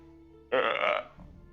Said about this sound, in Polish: głośno go przełykając i bekając na koniec